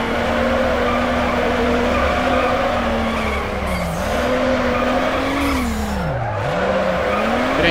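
Golf GTI in Need for Speed Underground 2 drifting through a long slide, steady loud engine drone with a sustained tire squeal that bends and dips in pitch near the end, continuous with no talk.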